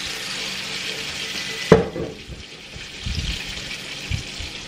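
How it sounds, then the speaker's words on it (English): Cornbread batter poured into hot oil in a pan, a sudden sharp hit followed by a soft, ongoing sizzle with small bubbling pops, close and alone. "We're gonna pour this into our hot oil. And I love to hear it sizzle there."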